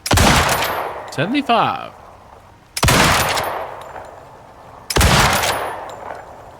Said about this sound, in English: We're actually gonna go ahead and load up some regular rifle ammo and do a direct comparison